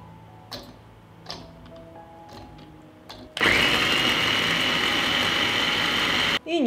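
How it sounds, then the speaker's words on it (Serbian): Hot chili pepper minced in a small electric food chopper: a few light clicks and taps, then the motor whirs loudly and steadily for about three seconds before cutting off, close up. "I usitnit ću je u secku."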